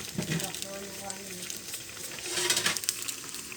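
A two-egg dish simmers and sizzles softly in a pan with a steady bubbling hiss and light stirring, faint and close, while someone talks quietly.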